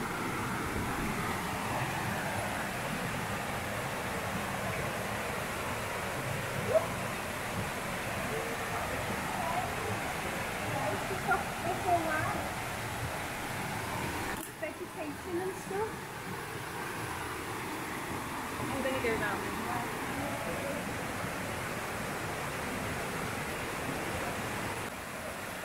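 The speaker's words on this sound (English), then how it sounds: "There's a little waterfall by our house." A small waterfall near a house in Costa Rica gives a steady, broadband rush of falling water, continuous and fairly close, with a brief dip midway and no voices over it.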